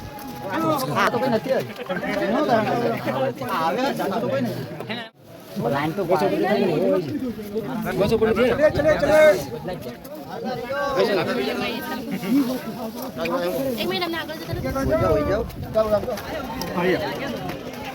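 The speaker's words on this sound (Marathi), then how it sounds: "गर्दी" Crowd of pilgrims chattering on the stone steps of Girnar mountain in Junagadh, a steady murmur of many voices nearby with a louder voice occasionally standing out.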